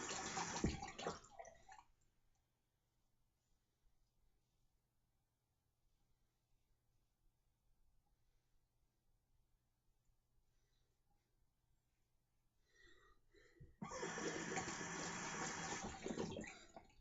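A bathroom tap gushes water during a wet shave, a loud burst at the start, near silence in between, then a strong steady stream returns at the end; no talk.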